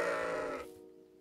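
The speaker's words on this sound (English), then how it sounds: "Is that a sheep?" A single sheep's bleat, a sustained wavering nasal call that sounds fairly close, fades out within about a second, leaving quiet with no talk.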